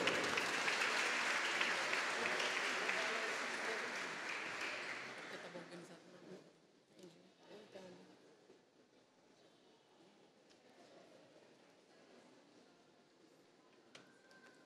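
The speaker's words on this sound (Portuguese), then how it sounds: "Nossos aplausos" Applause from the audience at a formal legislative ceremony for a diploma presentation, loud and dense at first, then thinning into scattered claps and fading to quiet room noise with a few faint knocks.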